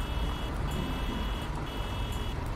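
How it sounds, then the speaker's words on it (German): A bus horn in the video game Fernbus Simulator sounds in long, steady tones separated by short gaps, over a loud, constant engine rumble, with no voices. "Könnt ihr die Hupe hören?"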